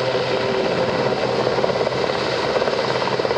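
A helicopter hovers over a field at the East Fortune Airshow, its rotor and engine producing a loud, continuous, close roar with a faint rhythmic beat throughout, and no voices.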